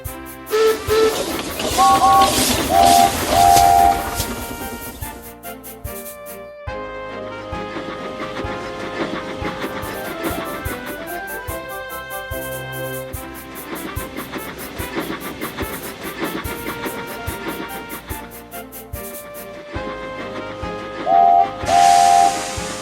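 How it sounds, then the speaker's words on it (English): A steam whistle blows loudly in bursts over the steady chuff and hiss of a running locomotive, with the rhythmic engine noise continuing between whistles. "Soon he was steaming well and his wheels were thundering along the line."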